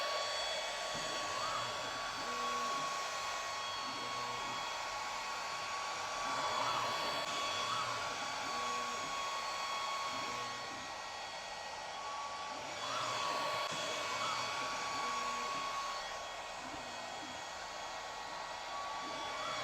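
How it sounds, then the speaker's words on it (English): A laser cutter traces the cutout path of a card, with a continuous airy blower roar, a thin steady whine, and soft rhythmic motor shifts repeating as the head moves; no one speaks. "Now all we are going to be doing is running the cut path for the cutout of the card."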